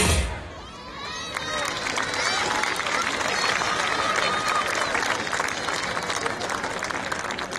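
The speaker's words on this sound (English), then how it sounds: "Give a big round of applause to these cutie pies." An audience at a school annual day claps and cheers for young performers, a steady wash of applause with children's shouts and voices mixed in.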